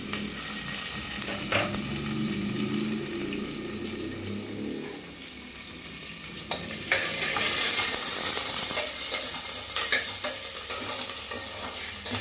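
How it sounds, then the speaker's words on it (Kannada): Garlic and ginger frying in hot oil over a medium flame, a steady loud sizzle and hiss with occasional stirring scrapes, building briefly brighter midway, with no talking. "ಎಣ್ಣೆ ಕಾದಿರೋದಕ್ಕೆ ಬೆಳ್ಳುಳ್ಳಿ ಮತ್ತು ಶುಂಠಿ ಹಾಕ್ಕೊಂಡು ಸ್ವಲ್ಪ ಹಸಿ ವಾಸನೆ ಹೋಗೋವರೆಗೂ ಫ್ರೈ ಮಾಡ್ಕೊಬೇಕು"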